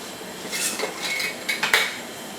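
Leftover sauce is rinsed from a pan with water, shaken and dumped into an ice cream bucket, giving a short run of clinks and sloshing clatter close by.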